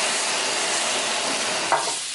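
Squid, shrimp and shellfish stir-frying in a hot pan, a loud continuous sizzle filling the whole stretch with a couple of brief scraping stirs near the end, no voices.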